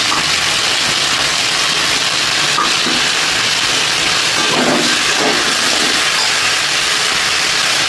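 Ginger and cumin paste sizzling in a hot pan, a loud, continuous hiss of frying that holds steady for several seconds with no voices over it.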